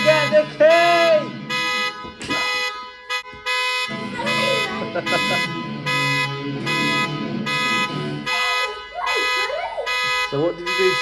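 A Tesla's Sentry mode alarm goes off nearby, loud pulsing tones and warbling siren bursts repeating in a steady pattern, with children's voices breaking in between the blasts.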